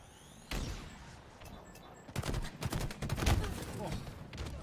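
Gunfire bursts and rocket blasts from a Halo-style video game match erupt in rapid, uneven volleys, growing denser and louder toward the end, with a commentator's voice running over the action.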